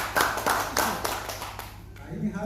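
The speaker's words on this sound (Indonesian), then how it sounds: "Tepuk tangan dulu." An audience claps at a training session in Mimika, with a few distinct bursts of hand claps over steady background hum and murmured voices, fading after about two seconds.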